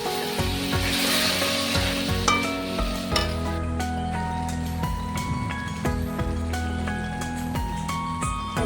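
A bowl of yogurt is stirred into spice masala sizzling in a pan for guava bhaji, giving a steady crackle of frying with soft scraping strokes throughout and no talking.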